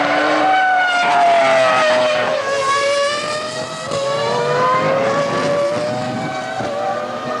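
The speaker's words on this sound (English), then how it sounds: "the Ferrari F2002 broke cover to make its Grand Prix debut" Ferrari F2002 Formula One car racing at high revs, its loud, screaming engine note sweeping down and rising again as it passes close by, with layered harmonics and no voices.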